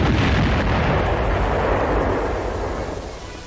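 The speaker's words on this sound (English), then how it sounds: "More firing is required because the rockets were fired too high. 10 additional rockets do the trick." Rockets fire from a launcher mounted on a Sherman tank, a dense continuous roar of blasts and rumble that holds loud for about three seconds, then begins to fade.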